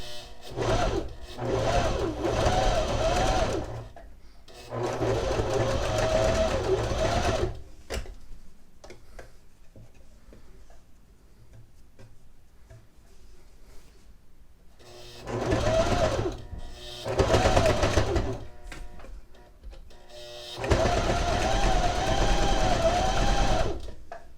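A sewing machine hems an infinity scarf in several loud, close bursts of rapid rhythmic stitching, separated by quieter pauses, with no talking.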